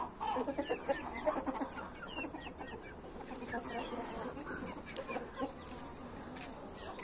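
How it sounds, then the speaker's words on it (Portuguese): Chickens on a Brazilian farm cluck and chatter in a loose, irregular stream at moderate distance, with occasional sharper squawks over quiet outdoor background. "Olha lá, catando a galinha."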